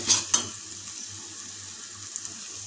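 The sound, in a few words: spices stir-fried in pan with spatula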